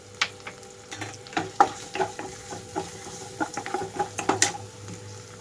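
Onion paste with ginger-garlic paste and turmeric frying in a pan for a brinjal and green pea curry, with a steady close sizzle and repeated scraping stirs and utensil clinks throughout, no talking.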